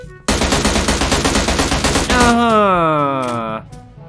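An M16 rifle on full auto in a video game, a loud, fast, unbroken burst of gunfire lasting about two seconds, followed by ringing metallic tones that fade away.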